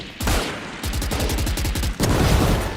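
Rapid bursts of Phantom rifle fire in the Valorant video game, loud and close: a short volley, a brief gap, then a longer stream of evenly spaced shots and another burst at the end.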